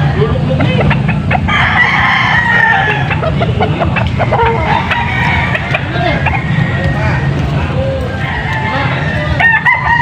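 Boston-breed roosters in Angeles City, Pampanga crow over a constant loud din of many birds, with clucking and general yard noise filling the whole stretch and voices mixed in.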